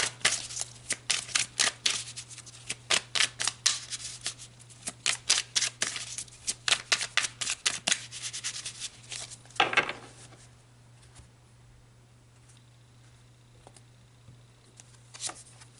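Tarot cards are shuffled in a rapid run of crisp riffling slaps, then a few single cards are drawn and laid down with soft snaps before the handling goes quiet, over a steady low hum.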